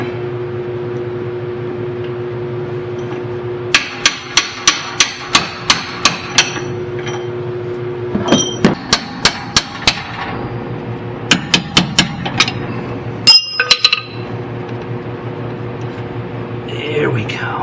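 Hammer strikes drive a king pin bushing out of the front steering of a 1948 Chevy, loud metallic blows in rapid bursts of five to eight hits separated by pauses, close up in a quiet shop with a faint hum.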